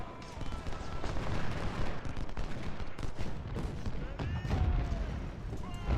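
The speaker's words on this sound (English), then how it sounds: "Just shoot volleys at these guys." Musket volleys in the Civil War strategy game Ultimate General, dense crackling bursts of gunfire rolling continuously with heavier booms, busy and layered throughout.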